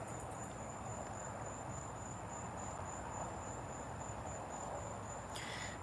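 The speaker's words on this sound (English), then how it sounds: "I hear the cicada." Steady, high-pitched cicada buzz droning continuously throughout, faint and distant, with a soft background hiss and no voices.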